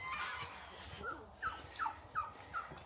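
Chickens heading to their coop at the end of the day on a farm, giving a short series of four or five clucking calls at a steady pace, fairly close and not loud, over soft outdoor background noise.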